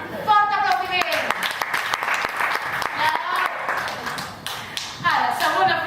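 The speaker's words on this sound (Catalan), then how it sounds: "Fort aplaudiment!" Loud, dense applause rises from the audience at a Catalan theatre event about the independence referendum. Sharp claps are layered through it, and a voice speaks at the start and again near the end.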